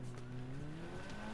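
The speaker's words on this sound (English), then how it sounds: "Fish in a RC car." An RC car driven by a fish in the video game Another Crab's Treasure whines with a rising, buzzing motor tone, loud and continuous over game ambience.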